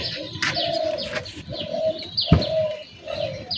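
Pigeons or doves cooing close by, a repeated soft coo mixed with small chirps and a brief flutter, heard over faint background noise in a home kitchen yard.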